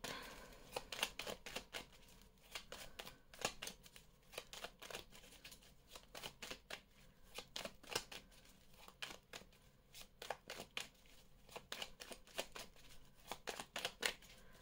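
A deck of cards shuffled and cut for a card reading, repeated quick riffling bursts and snappy flicks in an irregular rhythm, close and fairly quiet.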